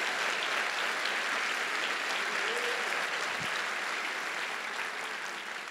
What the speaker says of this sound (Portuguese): É para você aplaudir com força agora.